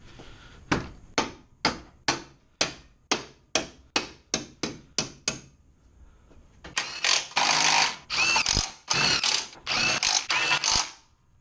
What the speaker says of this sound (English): We're just going to use a hammer and tap the whole front end back.